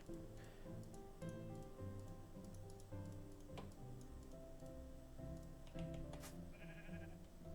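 Sheep bleat several times in Minecraft over a steady background of game music and ambient sound, with short ticking clicks scattered throughout.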